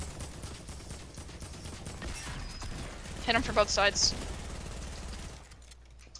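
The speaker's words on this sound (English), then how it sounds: "I'm hearing a whole lot of gunshots" Rapid bursts of video game gunfire crackle through a noisy arena battle, with someone speaking briefly over the shooting.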